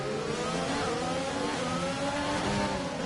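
Several McLaren race car engines scream together in a sim racing game, with layered high-pitched revving that is steady and continuous and has no voices over it.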